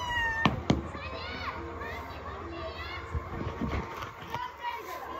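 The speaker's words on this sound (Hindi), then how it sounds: "बच्चे लोग कितने पटाखे उठा के छोड़ रहे हैं" Diwali firecrackers set off by children crack sharply a couple of times nearby, followed by scattered fainter pops amid children's voices and background chatter heard from a balcony.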